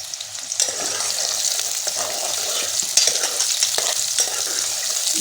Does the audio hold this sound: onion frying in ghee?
yes